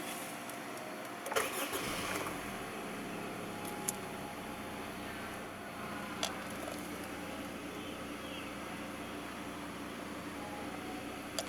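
A 2013 Honda Accord 2.0 VTi starts up with a brief crank and catch, then settles into a low, steady idle hum with a few faint clicks, heard close and alone.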